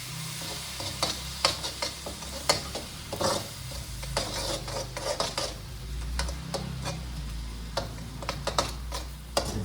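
A creamy chicken pasta mixture gets stirred in a pan with eggs just added, giving repeated scraping and clacking strokes over a steady sizzle, close and moderately loud, with no talking.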